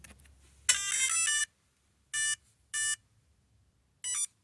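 The electronic speed controller of a Losi 1970 Chevelle 1/16 no-prep RC drag car chirps a startup sequence: one longer tone, then three short, evenly spaced beeps, clean and close against near silence.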